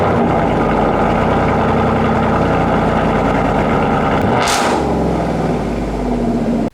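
A Ford F-350 truck engine in the Car Mechanic Simulator 2018 game runs loud and steady, with a deep idle rumble, a brief rise near the end, then a drop in pitch before it cuts off.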